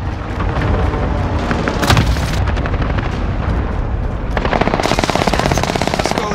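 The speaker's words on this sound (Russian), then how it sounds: "Союзник начал кластерную бомбардировку." Cluster bombing in the Call of Duty Warzone game, a dense barrage of rapid blasts and booming impacts that keeps rolling on, loud and near with bursts of gunfire mixed in.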